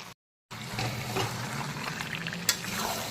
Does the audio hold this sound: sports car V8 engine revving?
no